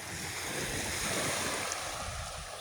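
Ocean waves breaking along the beach at Barangay Sabang, Santa Cruz, Zamboanga, a continuous wash of surf mixed with wind buffeting the microphone.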